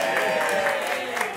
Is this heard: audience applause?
yes